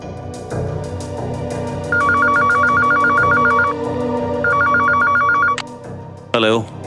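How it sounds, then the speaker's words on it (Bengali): A landline telephone rings in two bursts of rapid trilling bell tones, loud and close, with people talking around it and a short squeal at the end. "ফোন করলো ল্যান্ডলাইন থেকে।"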